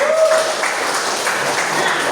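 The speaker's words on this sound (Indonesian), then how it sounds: "Ya, betul sekali, tepuk tangan" A classroom of students claps on cue during a lesson, a short burst of brisk, fairly close applause lasting a couple of seconds with a voice briefly audible at the start.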